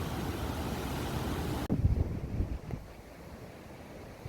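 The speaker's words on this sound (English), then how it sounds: "The wind is still blowing." Wind gusting on a mountain trail near Alberta Falls before sunrise, a steady loud rush of buffeting against the microphone that suddenly drops into softer, uneven gusts that fade toward the end.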